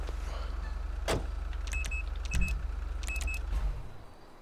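A car engine in the video game GTA V with the LSPDFR mod, a low idle hum giving way to sharp clicks and mechanical switching sounds, close and moderately loud.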